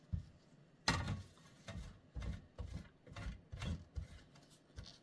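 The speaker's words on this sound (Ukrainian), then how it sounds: "Беремо терку, обмокаємо наш кусочок масла в борошно і починаємо натирати." Cold butter, dipped in flour, is rubbed against a hand grater for a Napoleon cake, giving a series of rough rasping strokes in an uneven rhythm, close and moderately loud with no talk.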